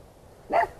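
Single short bark from a dog outdoors in a yard, one brief mid-distance yap rising out of quiet background noise.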